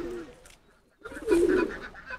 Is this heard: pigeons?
yes